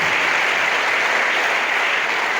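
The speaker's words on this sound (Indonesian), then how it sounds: "Tepuk tangan buat Iqbal dari Al-Mizan kita." Dense applause from a large audience at an Islamic boarding school event, a steady wash of clapping that stays loud and continuous throughout.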